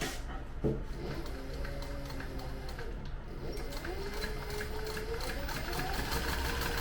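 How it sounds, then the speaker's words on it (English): A sewing machine stitching a leather tote bag runs continuously with a fast, even mechanical chatter and motor hum, close and steady throughout, while a person talks over it briefly. "Now, I'll start stitching right here. I'll back stitch a couple of stitches and then go up all the way around"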